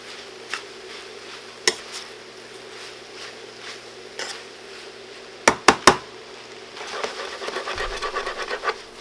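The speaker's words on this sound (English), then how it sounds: "we're going to go ahead and throw our noodles in and finish mixing it up" Egg noodles are stirred in a pan with garlic salt and smoked paprika, giving soft scraping and rubbing with a few sharp utensil knocks against the pan, then a busier stretch of steady scraping near the end.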